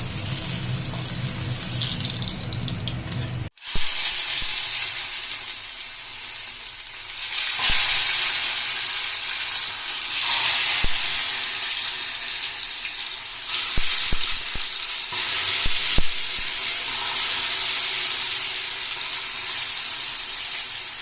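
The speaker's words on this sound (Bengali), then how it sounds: "রসুনগুলোও ভেজে নেব আমরা কাঁচা লঙ্কাটাও দিয়ে দিয়েছি" Garlic and green chillies fry in hot oil in a pan with a steady loud sizzle and crackle throughout, broken by a sharp clatter near the start and occasional soft stirring knocks.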